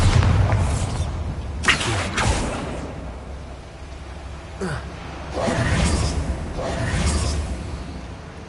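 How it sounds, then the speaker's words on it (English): In the video game Hogwarts Legacy, the Bombarda spell sets off loud booming explosions, one burst near the start and a longer rumbling blast later, with whooshes and debris between them. "Bombarda"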